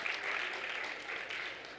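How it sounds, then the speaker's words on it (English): Audience applause at the closing of a youth summit, a soft, even wash of many hands clapping, heard from a distance and without pause for about two seconds. "A wide round of applause, please, and thanks to all the participants who made this event a brilliant"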